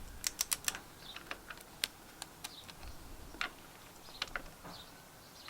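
Clutch cover bolts on a Yamaha YZF750 motorcycle being tightened with a torque wrench set to 12 Newton meters, heard as sharp, irregular metallic ticks and clicks, close and fairly quiet, with no talk.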